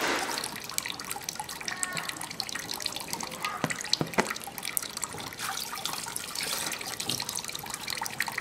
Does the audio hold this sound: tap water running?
yes